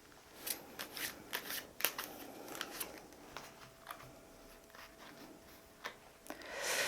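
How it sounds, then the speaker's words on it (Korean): Tarot-style soul cards being shuffled and drawn, a series of soft close flicks and snaps with irregular spacing, quiet overall, swelling into a louder rustle at the end. "소울 카드 뽑아 볼게요"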